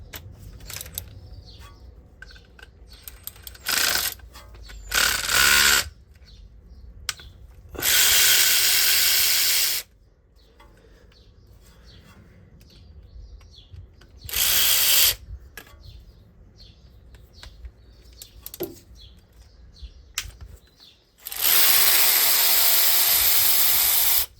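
A ratchet undoes T30 bolts on a 2.0 TDI engine during an oil pump and toothed pulley job. Loud, close bursts of ratcheting come in separate spells, with quieter tool clatter and handling noise between them.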